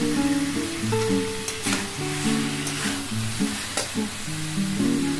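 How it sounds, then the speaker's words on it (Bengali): Raw jackfruit pieces sizzle and fry in a pan while being stirred, with a steady, dense crackle and repeated scraping strokes throughout, loud and close with no talking. "ভালো করে এঁচড়গুলো দিয়ে কষিয়ে নিতে হবে।"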